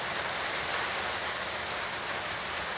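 Heavy rain falls at a small farm piggery construction site, a dense, loud, unbroken roar of drops hammering surfaces with no pauses and no voices.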